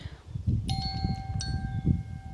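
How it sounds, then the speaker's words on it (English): Metal wind chime ringing in the wind, with a couple of bright, sustained tones struck in succession and left to ring, close by over a low rumble of wind. "I have a beautiful wind chime here that is catching the wind."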